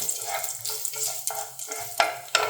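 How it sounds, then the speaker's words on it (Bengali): Chopped onion stirred into hot oil with whole cumin and dried red chilli, a crackling sizzle broken by several sharp spatula knocks and scrapes, close and without talk. "নাড়াচাড়া করে দিয়ে দেবো পেঁয়াজ কুচি"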